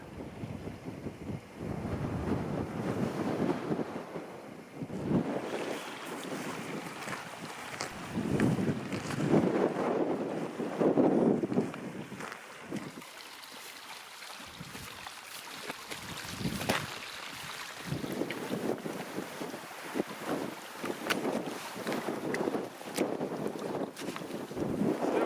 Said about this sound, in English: Still freaking windy.